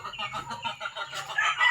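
Several chickens cluck in repeated short bursts at close range in a morning farmyard, the calls growing busier and a little louder toward the end.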